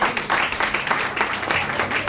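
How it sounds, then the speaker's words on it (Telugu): Congregation clapping together at a watch night church service, a dense, steady wash of hands filling the whole stretch, moderately loud and close, with voices mingled underneath. "అందరూ చప్పట్లు కొడదాం."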